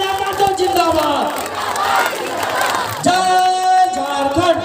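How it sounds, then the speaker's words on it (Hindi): At a political rally, a large crowd claps and cheers loudly and without a break, with shouts and slogans rising over the roar. "जोरदार ताली"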